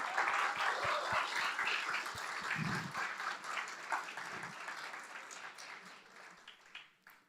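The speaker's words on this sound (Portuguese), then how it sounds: "eu quero que novamente a igreja toda se una em uma salva de palmas para honrar cada uma dessas mulheres extraordinárias." A church congregation claps together in a round of applause honoring women, dense clapping that stays steady before gradually thinning out toward the end.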